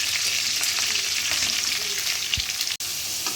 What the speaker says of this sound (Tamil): வெங்காயம் நல்லா பொருளை வதங்கணும். நல்லா வதங்கணும் வெங்காயம்